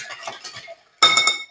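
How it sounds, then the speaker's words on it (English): A drink stirred with ice until chilled, giving a soft rattle of cubes and metal clinks against a glass, briefly pausing and then returning in a louder close burst. "how long do you stir till it's like chilled"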